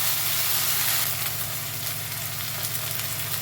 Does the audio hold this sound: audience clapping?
no